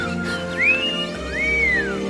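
Whistling in the movie Mac and Me, two rising-and-falling whistled glides, each sweeping up then curving back down, heard alone over a steady low hum.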